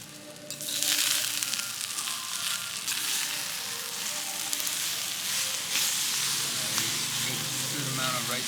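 A hot stone bowl of Korean bibimbap sizzles and crackles steadily at close range in a Cambodian restaurant, with a constant hiss and faint scraping and stirring.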